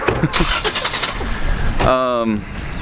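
A car engine cranks and catches near the end, a short starter whir turning into a rising engine tone, close and loud after a stretch of background noise.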